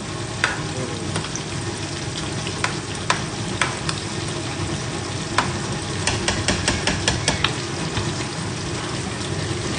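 Continuous frying sizzle with scattered pops and crackles, plus occasional stirring clinks, heard up close without talk.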